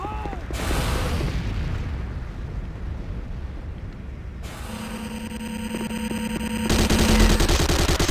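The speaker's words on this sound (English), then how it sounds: "C4 is set. Fire in the hole!" A C4 charge detonating in the Renegade video game, with heavy booming blasts and rumbling crashes over a steady mechanical drone of battle noise, growing louder toward the end.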